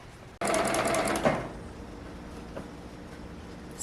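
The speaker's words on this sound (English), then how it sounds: "we're gonna stitch right along this edge" A sewing machine stitching along a fabric edge, starting abruptly with a loud steady whirring run of about a second, then slowing and fading into a quieter hum with a small click later.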